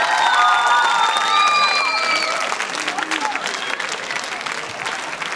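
An audience at a gala show breaks into dense applause with some cheering, loud and sustained at first, then thinning slightly toward the end, with high whistle-like tones over the clapping.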